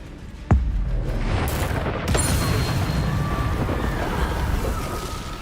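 The Incendio fire spell is cast in the video game Hogwarts Legacy. A sharp burst lands at the start, followed by a loud, continuous roaring rush of flame and rumble that lasts several seconds.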